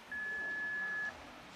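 Answering machine beep before a message, a single steady electronic tone lasting about a second, clear and alone over faint room hiss.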